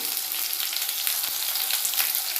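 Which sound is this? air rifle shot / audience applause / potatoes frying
potatoes frying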